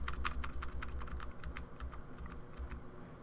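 Computer keyboard cursor keys pressed repeatedly while working in Adobe Photoshop, a quick run of close, crisp clicks and taps at an uneven rhythm with no speech.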